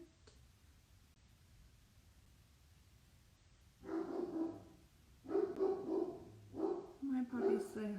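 Puppies barking in a home, several sharp bursts of yapping in quick clusters after a few quiet seconds, fairly close and loud against low background hiss.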